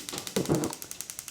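A stovetop burner being turned on to low, under cast iron cookware, gives a quick run of rapid, evenly spaced clicks with a soft thump near the start, close and fairly quiet.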